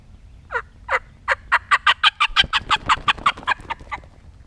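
A turkey hen's cackle with wing flapping, imitated on a call to sound like a hen flying off the roost: about twenty quick, loud clucks that speed up and then trail off, close and clear.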